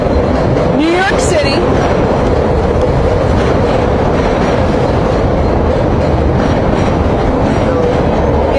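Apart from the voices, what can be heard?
passing train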